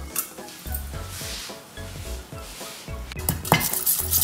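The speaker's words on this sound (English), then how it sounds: "You will hear a bit of sizzle and pop." Spices sizzle and pop in hot oil, added to pumpkin and fermented leafy green dal, while a utensil scrapes and clinks rhythmically against a metal pot, close and fairly loud.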